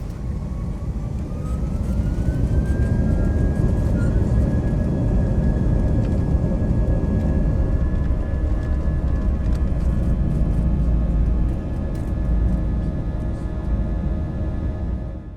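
Steady, loud roar of airliner cabin noise as a British Airways domestic flight to Manchester takes off and climbs, with a rising engine whine partway through and a constant low rumble throughout.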